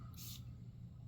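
A single short hiss of perfume sprayed from an atomizer, quick and close. The fragrance is an amber scent with oud and leather notes. The spray is heard over a low room hum.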